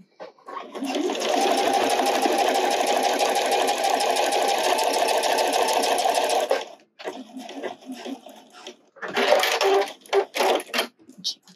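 A sewing machine stitches a wireless bra in a steady, close, loud run of about six seconds, then stops, followed by shorter bursts of stitching and handling noise.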